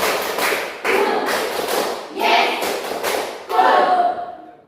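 A classroom of students claps in a counted rhythm, with grouped bursts of one, two and three claps, fairly close and loud, amid some shuffling.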